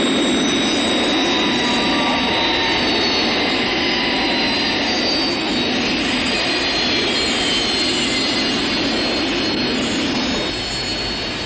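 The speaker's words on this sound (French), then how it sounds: "Thunderbird 1 à midi au-dessus de nous." Thunderbird 1's jet engine roars overhead as a film effect in a 1968 Thunderbirds feature, a loud sustained broadband whoosh and rumble with a faint high whine that holds steady and fades slightly at the end.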